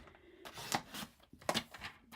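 Scissors snipping through a piece of paper, cutting a half-inch strip for a heart-shaped card: two distinct close crisp cuts with lighter rustling between them.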